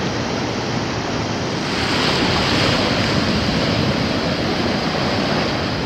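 Ocean surf at Port Macquarie beach in New South Wales, a broad unbroken roar of waves that swells slightly midway, with some wind rumble on the microphone and no voices.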